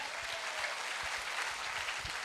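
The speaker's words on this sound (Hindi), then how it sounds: "जोरदार ताली हो जाए" Steady, dense clapping from an audience at a motivational speech event, continuous and moderately loud throughout the short stretch with no voices over it.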